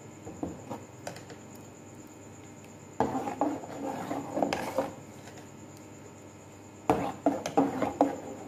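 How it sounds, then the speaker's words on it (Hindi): Spoon or ladle scraping and knocking in a metal pan as khoya is mixed into rice kheer, in quiet bursts of stirring separated by near-silent pauses. "खोए को अच्छी तरह से मिक्स कर लेंगे।"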